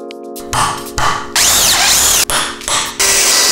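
A power drill bores a hole while a home gym cabinet is being mounted, in several loud, close bursts of whirring separated by short pauses.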